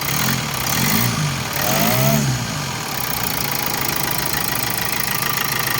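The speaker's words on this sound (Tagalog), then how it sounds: "So yung tunog na yan, normal na lang yan dahil CRDI siya tapos diesel." Hyundai Santa Fe 2014 CRDI diesel engine idling steadily, a continuous close mechanical drone with diesel clatter and a couple of slight swells in pitch, heard alone without talk.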